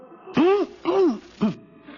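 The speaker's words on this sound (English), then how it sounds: "I was just clearing my throat" Three throaty vocal bursts, two longer and one short, with a rising-falling tone like someone clearing their throat, close and fairly loud, in a 1947 radio comedy broadcast.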